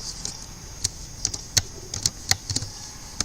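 Irregular, crisp keystrokes from code being typed on a computer keyboard, mostly separate taps with a few quick pairs, close and clear with no talking.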